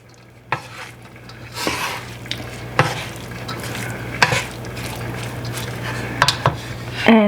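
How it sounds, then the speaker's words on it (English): Spring roll filling being stirred with parsley in a pan, with repeated scraping and clinking of a utensil against the pan over a steady low hum, close and moderately loud with no talk. "You want to put the parsley once it's cooked and mix it really well."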